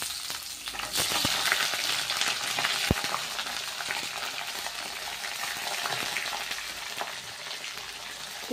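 Sliced onions frying in hot oil with bay leaf and whole cumin give off a dense, continuous sizzle, close and even, with occasional soft clicks of a spoon and no talking.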